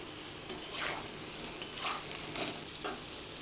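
Turmeric and chili powder frying with green chilies in a pan, a steady close sizzle with a few soft stirring strokes rising and falling, no voices.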